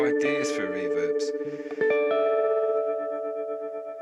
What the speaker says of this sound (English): I'm going to play around here with the reverb first